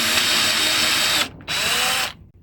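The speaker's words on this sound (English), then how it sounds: "we're just going to drill another hole just down as center as we can get it" A power drill bores a hole into the end of a wooden walking stick, whirring loudly and steadily, cutting out briefly, then resuming before stopping.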